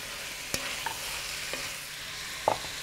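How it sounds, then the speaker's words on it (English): Garlic sizzling in a hot pan for chicken soup, a faint steady fry with a few sharp clicks and utensil taps scattered through, quiet and close. "Once that garlic hits the pan, it goes right up your nose"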